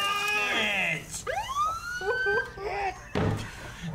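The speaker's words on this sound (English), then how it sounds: "The siren's coming on." A police car siren from the TV show Barry wails in rising and falling sweeps, loud and close, with a door-like thump near the end and voices mixed in.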